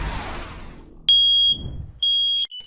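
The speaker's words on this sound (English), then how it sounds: "Those false alarm chirps are piercing sounds from your smoke detector." A household smoke detector gives false-alarm chirps: two piercing, high electronic beeps, each about half a second long, separated by a short pause after a muffled rustling start.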